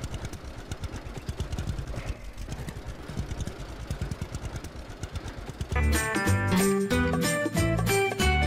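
A tractor engine in the video game Lumberjack's Dynasty chugs with a rapid rhythmic idle, then music swells in and plays over it for the final few seconds.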